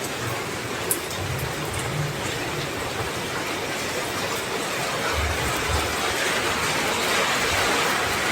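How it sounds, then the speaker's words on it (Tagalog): Steady rain falls outside a home in front of the kitchen, a constant broadband hiss of drops on surfaces that runs unbroken and fairly loud throughout, with no voices. "ako lang mag-isa dito at umulan."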